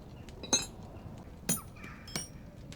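A hammer strikes a metal blade in a blacksmithing video game, three sharp ringing clinks spaced about a second apart over a quiet background.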